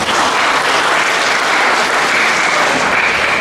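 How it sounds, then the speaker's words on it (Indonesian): Loud, dense applause from a crowd at a Golkar party Christmas and New Year celebration in West Nias, a continuous close roar of clapping with no speech over it. "Tepuk tangan untuk Pak Wabu"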